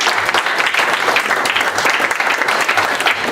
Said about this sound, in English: can we first clap? Can we clap for that?